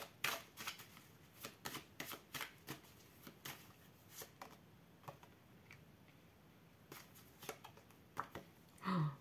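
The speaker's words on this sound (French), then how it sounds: "je vais juste recouvrir 2 cartes" Tarot cards being handled and laid down on a surface, a series of soft, crisp flicks and taps at uneven intervals, close and quiet, with a slightly louder shuffle near the end.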